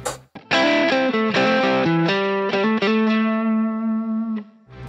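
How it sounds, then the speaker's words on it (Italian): An electric guitar with light distortion plays a short melodic phrase of plucked notes, ending on a long held note that rings and slowly fades, all loud and close with no voices. "Gli applico una leggera distorsione."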